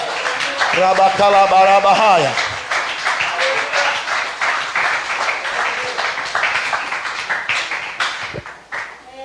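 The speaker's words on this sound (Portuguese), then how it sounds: "Pode aplaudir, gente" Crowd applause at a church sermon, a dense burst of clapping mixed with cheering voices and a sung or shouted note early on, loud at first and tapering over several seconds.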